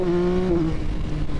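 A Yamaha XSR900 motorcycle engine drones loud and close at full throttle, a strong steady tone that dips in pitch partway through.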